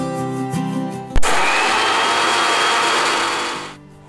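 A kitchen mixer grinder whirs loudly for a few seconds as it grinds coriander, ginger, onion and coconut into a green chutney paste. It starts abruptly after a brief tonal sound, runs steadily, then cuts off.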